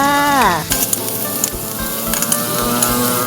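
Garlic and chili stir-fry in a hot pan with pork, giving a loud, close sizzle broken by repeated stirring scrapes and clanks, with music playing underneath; no speech.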